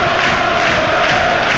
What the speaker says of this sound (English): But it's the Plymouth fans that you can hear.